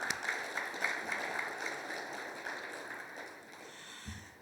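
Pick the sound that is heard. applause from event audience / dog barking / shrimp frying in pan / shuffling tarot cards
applause from event audience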